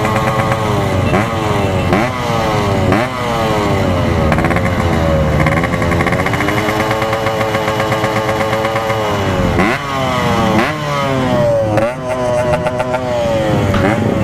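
A Yamaha RX King two-stroke motorcycle on a night ride, its engine failing after running out of two-stroke oil, revs loudly and close in repeated rising and falling sweeps, with brief dips between pulls.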